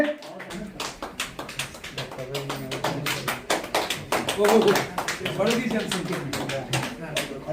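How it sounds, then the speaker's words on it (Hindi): A group claps hands loudly and rhythmically in a steady, energetic burst, with voices talking and calling out over the clapping throughout. "जोरदार ताली"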